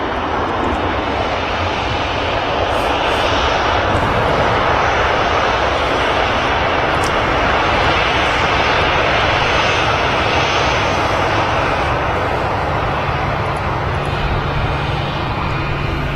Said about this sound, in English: Just taxiing past the 737-800 Ryanair aircraft, and then it's followed by a British Airways A320.